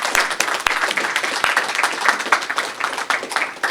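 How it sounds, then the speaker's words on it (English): An audience at a book launch gives a round of applause, a dense, steady patter of many hands clapping at moderate distance without voices. "So I just think it's really important for us to give Alan a round of applause."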